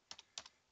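Computer keyboard keys clack in two quick pairs of taps, close and faint, in a quiet room.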